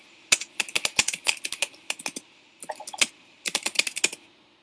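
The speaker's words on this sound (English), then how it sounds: "Do I have good typing sounds?" Fast clicky typing on a computer keyboard, close and crisp, coming in three quick bursts with short pauses between them.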